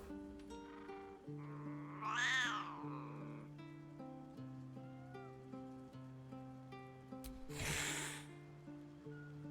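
A cat meows in the video game Baldur's Gate III, two distinct close bleating cries, one near the start and a harsher one near the end, over a sustained tonal music bed.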